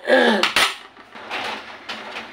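A metal lid clanks back onto a cooking pot of pork humba, a bright sharp clatter followed by softer scraping and light kitchen rattles.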